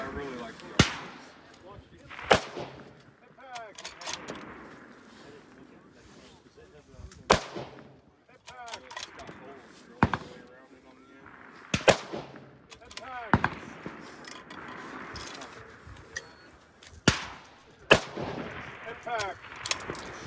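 .22 rifle shots ring out at a shooting competition stage, sharp single cracks spaced irregularly, about a dozen over the stretch, with someone talking quietly between them.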